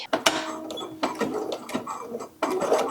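Sewing machine with an even feed foot back-stitching an overnight bag, with short bursts of quick mechanical stitching separated by brief pauses, close and moderately loud.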